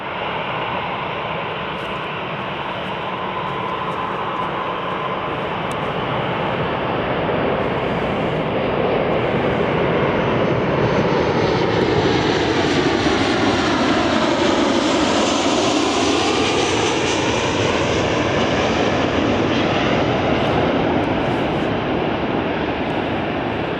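A US Air Force Boeing 737 (C-40C) lands on runway 08 right at London Gatwick, its loud continuous jet roar swelling and sweeping in pitch as it passes close overhead, with no voices.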